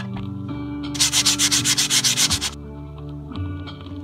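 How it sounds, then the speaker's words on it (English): Used skateboard deck having its printed graphics scraped off in a garage: about a dozen quick, rhythmic rasping strokes, loud and close, over a steady low hum, with no talking. "Scrape the graphics off."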